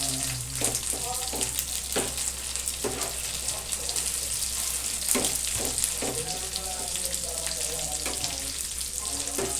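Pork grilling on a non-stick grilling pan, a steady soft sizzle with scattered crackles and a few scraping stirs, moderately close and fairly quiet, with no talking.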